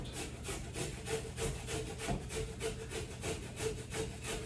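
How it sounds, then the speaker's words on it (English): A carrot rubbed against a hand grater in quick, even back-and-forth strokes, a close rasping scrape repeating about twice a second, with no voices. "So now I can take my grater and I can grate my carrot."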